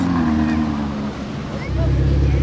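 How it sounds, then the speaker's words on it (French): A black Lamborghini Urus idles on a Monaco street with a deep, close engine rumble that swells heavier partway through, while someone talks over it. "le Urus noir là qui vient de démarrer"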